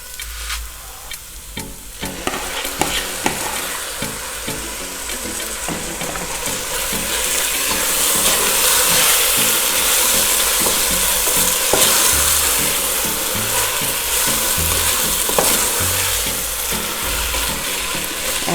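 Carrots and baked beans for South African chakalaka relish sizzle and fry in a pan while a utensil stirs them, steady close frying with scraping strokes throughout, no talk.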